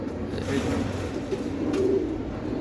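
A young male racing pigeon in a loft coos in soft low repeated calls, close by, while someone talks over it.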